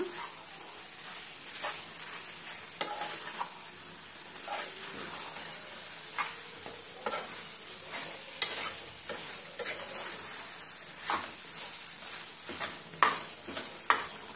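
Dahi chicken masala is stirred in a pan with repeated scraping, clacking spoon strokes over a soft sizzle, close and fairly quiet, with no talking.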